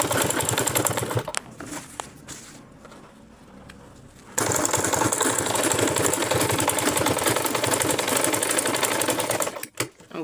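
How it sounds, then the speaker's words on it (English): A sewing machine runs in steady bursts while stitching folded turban cap fabric, loud and close, with a quieter pause partway through before the motor drives on continuously to the end. "then take it to my sewing machine"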